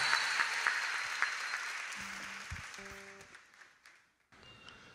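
An audience at a live music show applauds, a broad wash of clapping that gradually fades out over several seconds, with brief musical tones appearing as it dies away.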